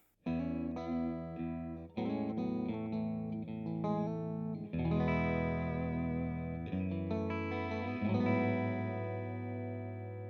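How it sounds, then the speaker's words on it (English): A Suhr Classic S electric guitar on bridge and middle single-coil pickups strums chords and picks short phrases with a clean-to-crunchy tone and chorus effect, notes ringing out between changes; no talking. "Next is our bridge and single coil middle there."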